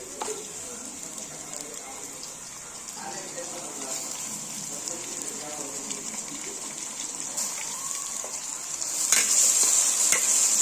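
Two cut medium tomatoes sauté with cooked onions in a pan for Chettinad chicken gravy, giving a soft, steady close sizzle with light stirring, growing louder and brighter near the end.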